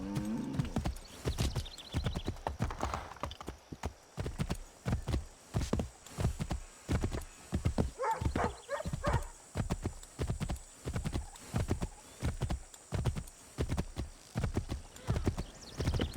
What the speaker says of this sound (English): Vou pegar um cavalo.